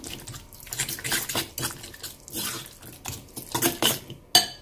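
Tuna, egg and parsley filling for mini pizzas being mixed in a bowl, with utensil scraping and clinking in a busy, close, irregular rhythm that ends in a sharp knock.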